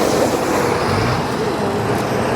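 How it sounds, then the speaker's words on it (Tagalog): Road traffic passes beside a lake, a constant broadband rumble of vehicles with faint engine tones drifting through it, fairly loud and steady, with no talk over it. "Ayan, galing yung mga sasakyan doon sa taas."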